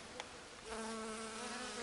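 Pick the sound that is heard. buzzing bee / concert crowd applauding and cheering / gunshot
buzzing bee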